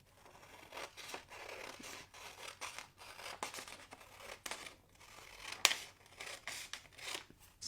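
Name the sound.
scissors cutting paper tangram template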